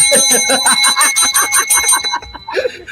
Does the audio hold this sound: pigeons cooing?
no